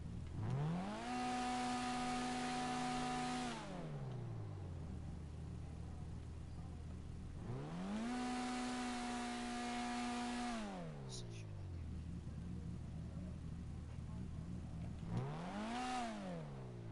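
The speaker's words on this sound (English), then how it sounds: "And then I'll do a little outside rev of the car." Outdoors in the GTA video game, a car engine revs in three long pulls, each rising, holding steady and dropping back to idle, with quieter idling between them.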